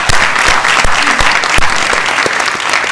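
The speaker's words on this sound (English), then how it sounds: "Let's give him a round of applause as well." Loud, dense audience applause for a panel speaker at a discussion event, a continuous wash of many hands clapping close by for a few seconds.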